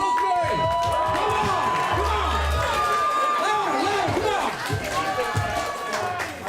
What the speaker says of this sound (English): the crowd getting into it for our third benches